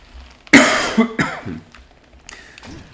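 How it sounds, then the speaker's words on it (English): A person coughs several times in a short, rough burst, close and fairly loud, with a throat-clearing quality. "I've got a bit of a cough"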